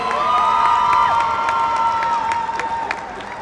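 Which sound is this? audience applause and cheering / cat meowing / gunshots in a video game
audience applause and cheering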